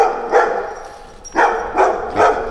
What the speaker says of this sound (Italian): C'è un cane che dal balcone ha visto Napoleone.